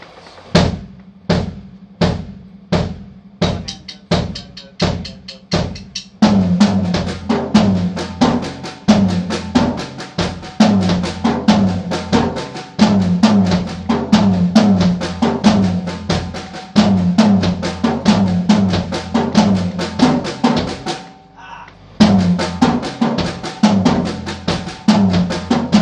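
A drum kit works through a triplet accent reading exercise, starting with sparse evenly spaced strokes and then settling into a steady, busy groove of accented triplets with cymbal wash, loud and close, with a brief gap near the end.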